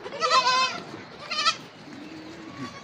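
Goats at a goat farm in Arughat, Nepal, with two close, quavering bleats in quick succession, then quiet background shuffling.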